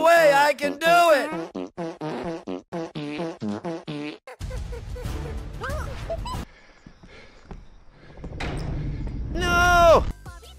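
Cartoonish fart sound effects blurt in a rapid, musical series of squeaky pitched toots, followed by a longer low rumbling blast and a final loud squeal, with animated character voices talking between them.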